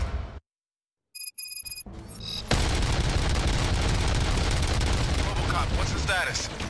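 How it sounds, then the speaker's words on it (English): After a brief silence and a few sharp clicks, dense, loud gunfire erupts and continues steadily to the end in the video game RoboCop: Rogue City. "Gunshots? What's going on?"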